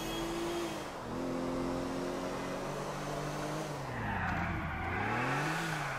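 A two-door, high-powered car's engine revs in GTA 4, loud and close, with the pitch climbing and dipping through several rises and falls and no talk over it.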